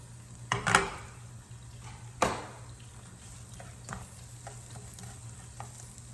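Onions browning in a pan with Worcestershire sauce give a steady low sizzle, broken by a few sharp stirring scrapes and utensil clinks near the start and middle.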